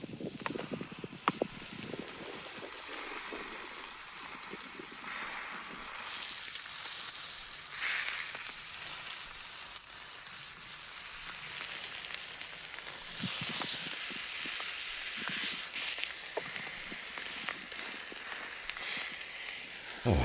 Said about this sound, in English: The sizzling sounds and tantalizing aromas of frying meat are like music to the ears